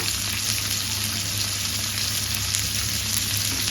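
Marinated jalebi fish frying in a pan with mint and green chili, giving a steady, continuous sizzle with no pauses, close and fairly loud throughout with no talking.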